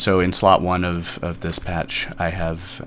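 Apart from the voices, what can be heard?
No everyday noise stands out behind the speech.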